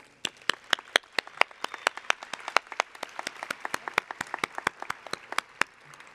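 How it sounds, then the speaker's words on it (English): Scattered applause at a women's conference awards show, individual claps sharply distinct and uneven in rhythm, a modest group clapping nearby rather than a dense roar. "I just want to do a round of applause for all that she's given us in our life."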